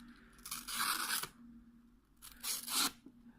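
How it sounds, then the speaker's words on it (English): A Swiss Army knife with a 15-degree edge slices through scratch paper in two separate strokes, each a close, raspy tearing rustle with a slightly toothy, uneven bite, separated by a short pause. "I have some scratch paper right here. And let's just show you guys how it cuts."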